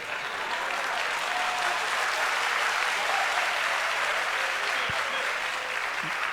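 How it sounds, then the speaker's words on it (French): At a youth festival on digital training and employment, a crowd applauds loudly. Dense, sustained clapping fills the whole stretch at an even, strong level, with no pauses. "Et quand c'est comme ça, vous applaudissez fort."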